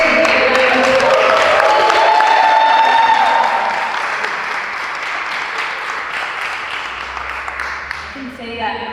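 Audience applause and cheering fill the room at the Queen City Pitch Competition, loud and sustained, with a voice calling out on top. The clapping eases somewhat partway through but keeps going steadily to the end.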